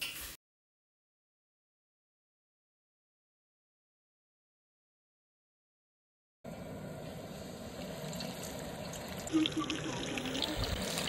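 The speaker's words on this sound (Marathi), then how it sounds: "तयार केलेल्या बेसनच्या मिश्रणामध्ये बोंबील बुडवून तेलामध्ये फ्राय करून घेऊया।" Bombay duck fritters dipped in gram-flour batter fry in oil over medium heat. A long stretch of silence gives way to a steady, moderately quiet sizzle and crackle that lasts to the end.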